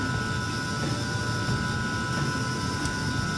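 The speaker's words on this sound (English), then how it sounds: "Engine's overpowering me." Steady, loud aircraft engine drone inside Microsoft Flight Simulator on a coastal flight from Ghana to Nigeria, a constant even roar with a faint tonal whine and no speech.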